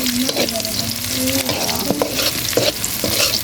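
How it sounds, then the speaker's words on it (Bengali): Steady close sizzle of fish frying with onion, chili and garlic, with periodic scrapes and knocks as the pan is stirred, no voices. "ভাজা দেওয়ার পরে এর ভিতরে হচ্ছে মাছ দিয়ে একটু ভাজবো।"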